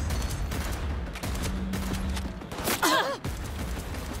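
Heavy-recoil gunfire in Cyberpunk 2077 comes as loud, punchy bursts over a busy game soundscape, with a sharp whooshing squeal near the end.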